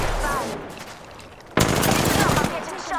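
Gunfire bursts in Apex Legends, a loud broadband blast cutting in sharply at mid-clip and sustaining with dense rapid reports, preceded by quieter game noise and faint talk.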